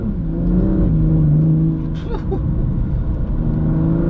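A 410 hp BMW M2 Competition engine drones steadily near the mic, with a brief rising rev on a downshift in the middle before settling back to a constant hum.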